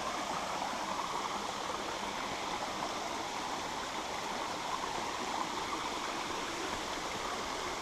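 Rusyliv waterfalls in the Dniester Canyon, a steady broadband rush of falling water, constant and moderately close, with no voices over it.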